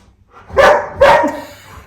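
A dog barks twice, close and loud, two sharp woofs about half a second apart followed by a brief small yelp and quiet.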